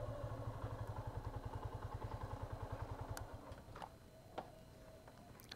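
A motorcycle idles close by with a steady, rapid low thumping pulse, then falls quieter as it stops. A few sharp clicks and clatters follow.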